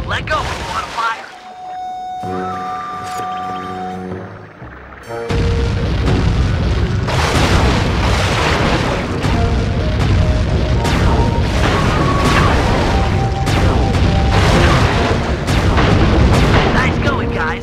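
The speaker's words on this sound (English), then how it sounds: "Murray rows and Sly mans the cannon. Hold down the R1 button to charge the shot and shoot farther." Cannon fire in the Sly 3: Honor Among Thieves video game, heard as deep booming shots from a boat-mounted cannon amid loud game music and effects, with character voices talking over it.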